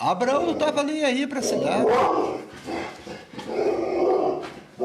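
A dog growls and barks in loud, rough bursts close by, overlapping someone talking.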